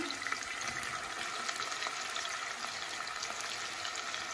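Chopped onion sizzling in hot oil in a pan, cooked for a fish and radish curry; a steady, dense crackling hiss from close by that holds unbroken throughout, with no talking over it.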